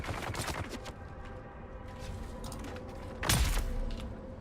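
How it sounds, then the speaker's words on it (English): Pistol shots ring out in Dune: Awakening, a couple of sharp reports early on and one loud, close crack later, set against a low game rumble. "Now we shoot the pistol."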